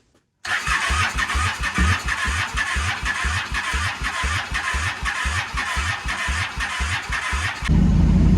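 A starter motor cranks a flood-damaged Honda Shadow motorcycle engine, boosted from a truck because of a dead battery, in a fast, steady, rhythmic churn for several seconds, then it catches into a loud, rough running note.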